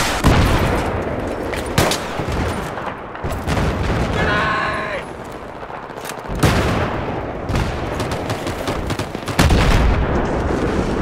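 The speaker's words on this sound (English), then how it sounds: "I'm trying to take out a tank with a pistol." Pistol fire against a tank in a Battlefield 3 match: dense, loud battlefield gunfire and booms running almost continuously, with several sharp shot peaks and a brief mechanical whine partway through.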